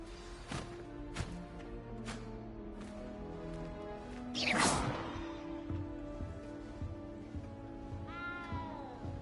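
A frightened cat in a video game meows a few times over a steady tonal game backdrop, with a brief whooshing swish midway and a drawn-out mew near the end.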